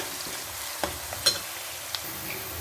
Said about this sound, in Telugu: ఆనియన్స్ బ్రౌన్ కలర్ వచ్చే వరకు ఫ్రై చేసుకోవాలండి.